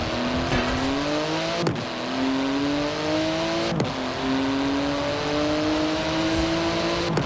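A Porsche GT2 RS revving hard in Forza Horizon 4, its engine note climbing through the gears with three sharp shift breaks, loud and close without any talk.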